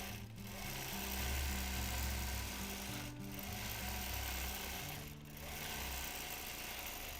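Free motion quilting on a sewing machine: a steady mechanical hum with a low running drone, broken by three short pauses where the machine stops before starting up again, with no voices.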